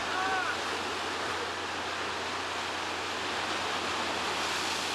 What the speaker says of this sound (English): looking at the surge currents of the surf.